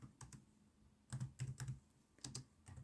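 Someone types on a computer keyboard, filling in a text entry: soft, quick key taps in uneven bursts, close and quiet, with no talking.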